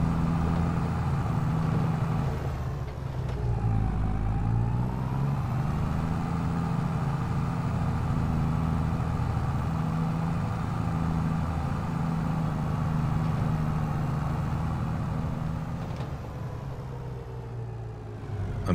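A tractor engine in Farming Simulator 22 idles steadily, a loud, continuous low rumble with a slight shift in pitch early on, heard alone throughout.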